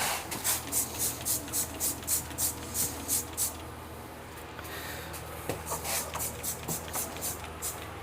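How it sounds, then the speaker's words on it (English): Short bursts of cleaner spray hiss repeat in a quick, steady rhythm onto a motorcycle rear wheel, then pause and resume more sparsely, close by with no talking. "spray it down a little bit."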